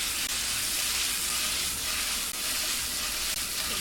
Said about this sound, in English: we're going to add this in, saute them up